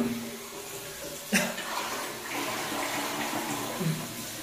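Toilet tank flushing, with water rushing and draining after a sharp click of the flush lever, then a steady watery wash that continues through to the end, close up indoors.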